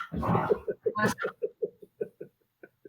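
Dogs yipping and whimpering in a home, a burst of mixed barking followed by a steady run of short rhythmic yelps, fairly close and loud, with some voice-like sounds mixed in early.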